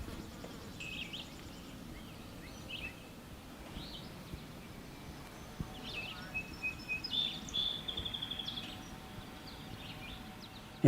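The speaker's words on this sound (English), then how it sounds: "The birds, you don't hear cars." Faint bird chirps and short calls sound outdoors on a quiet farm, sparse and distant over a soft hum of insects.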